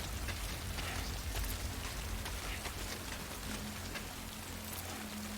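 Steady rain falling in Death Stranding, a dense even patter of drops on surfaces with a low rumble beneath, constant and fairly quiet throughout, no voices.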